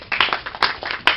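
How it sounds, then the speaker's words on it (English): A small audience breaking into applause after a speech, a handful of close hand claps at first, quickly thickening into a short, light round of clapping. "That way we can start clapping when you're up there."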